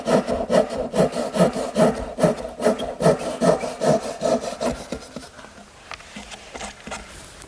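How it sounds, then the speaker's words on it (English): A dovetail saw cuts straight down through wood in a steady run of about a dozen rasping strokes, close and fairly quiet, slowing and fading near the end. "I'm simply going to use my dovetailing saw"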